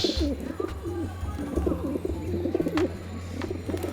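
Domestic pigeons cooing on a rooftop: repeated low, throaty coos from several birds overlap in a close, continuous rhythm, with a few faint chirps and clicks in the background.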